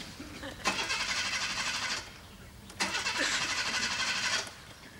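A car engine revs hard twice, each loud burst lasting over a second, with a short quieter gap between and a low idle underneath.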